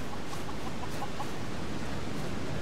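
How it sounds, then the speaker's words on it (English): Chicken in Skyrim clucking in a short run of quick, close calls over a dense, noisy game background. "Wow, there's one nutty chicken."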